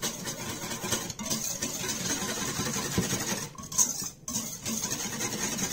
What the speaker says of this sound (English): now you're going to whisk it until it's nice and smooth